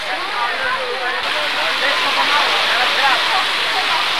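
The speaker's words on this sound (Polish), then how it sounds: "to jeszcze mocno, mocno pada" Heavy rain pours down during a storm at an outdoor football match, a dense, steady roar of hiss with no breaks. A voice talks faintly in the background.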